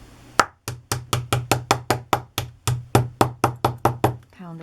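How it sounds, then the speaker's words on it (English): A small hammer pounds a metal corner onto a vintage book in about fourteen sharp, evenly spaced knocks, close and fairly loud, followed by a brief murmur of voice at the end. "I take my little hammer"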